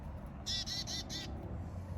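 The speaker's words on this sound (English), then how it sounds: "Oh, so there's just a bird on my foot." A bird perched close by lets out a short burst of four or five harsh, rapid squawks over a low background rumble.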